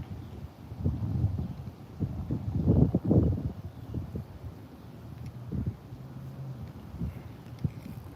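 Gusty wind rumbles against the microphone beside a backyard fishing bank, rising to a louder burst midway, then settling into a steady low roar with faint scattered knocks.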